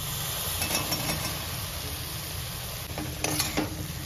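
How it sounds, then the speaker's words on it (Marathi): Washed cauliflower goes into a pan of sizzling, oil-rich masala with butter, giving a steady close frying hiss with soft stirring scrapes and a few brief clinks near the end. "तर आता आपण फ्लावर टाकायचं याच्यामध्ये."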